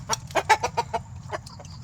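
A native chicken from Bohol clucks in a quick series of short, close calls, several bursts in a row with brief pauses, against a low steady hum.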